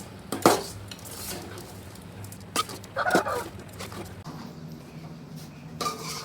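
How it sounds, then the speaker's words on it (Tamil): A spoon stirs pork curry with masala in a metal pot, village style, producing intermittent scraping clinks and a few sharper knocks against a quiet background. "சரி வாங்க, நெக்ஸ்ட்டு வந்து இதை வந்து கிளறி விடலாங்களா. மசாலா போட்டதுக்கப்புறம் சும்மா ஒரு கிளறு."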